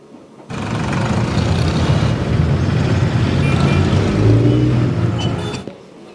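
Recorded Mumbai road traffic noise played over speakers at a school concert, a loud dense engine rumble and roar that starts abruptly, holds steady for about five seconds, then cuts off, with faint high tones.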